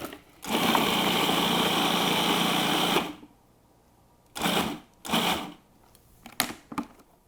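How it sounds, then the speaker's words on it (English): Food processor chopping vegetables for fresh salsa: a loud, steady motor whir for about two and a half seconds, then several short pulsed bursts, close up with no talking. "I'm going to put all of the rest of these vegetable ingredients in the food processor"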